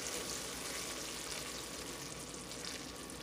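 Black candy apple coating being mixed in a pot, giving a steady close bubbling sizzle with a continuous stirring texture and no talking.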